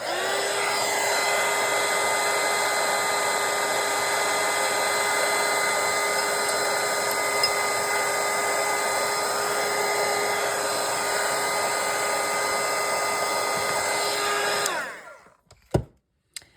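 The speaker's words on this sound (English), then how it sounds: "So I'm going to dry it real quick." A hair dryer blowing on a watercolour painting of a pumpkin latte, a loud steady whine running nonstop for about fifteen seconds before switching off, followed by a couple of small clicks.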